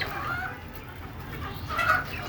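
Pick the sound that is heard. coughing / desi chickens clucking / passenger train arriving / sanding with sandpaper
desi chickens clucking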